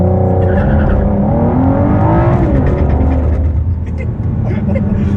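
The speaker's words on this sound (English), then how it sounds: "Easiest to activate launch control of all time." A Ford GT launches from a standstill under launch control, its engine roaring hard and continuously up close while the tires squeal, with voices talking over it throughout.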